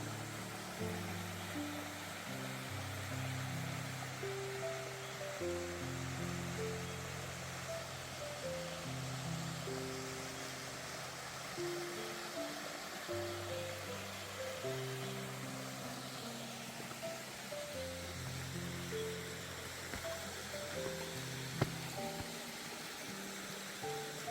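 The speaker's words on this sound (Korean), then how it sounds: "폭포가 끝내주는데요." Steady rushing water from a mountain stream waterfall at the head of a valley, a continuous broad roar heard alone for a long stretch, with a faint droning engine-like tone layered underneath.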